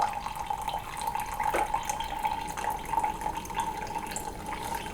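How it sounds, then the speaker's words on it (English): Hot water poured slowly into a single-cup coffee brewer, a thin continuous trickle with a steady pitched ring as the cup fills, quiet and close, with small splashy spikes along the way. "I'm going to just pour slowly, and I'm going to stop whenever the cup gets full."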